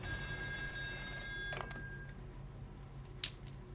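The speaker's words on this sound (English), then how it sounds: "Phone call." In the video game Still Wakes the Deep, a telephone on an oil rig rings faintly with a thin, steady bell, followed by a short click and then a sharper knock near the end.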